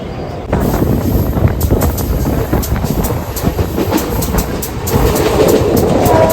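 Train at Dombivli railway station rumbling past close by, a loud steady roar with rhythmic clickety-clack wheel clatter running throughout.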